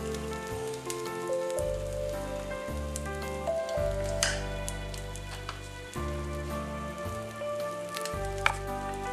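Eggs fry steadily in a home breakfast pan, a continuous crackling sizzle with scattered pops, close and moderately loud, while a low, droning background hum runs underneath without any talk.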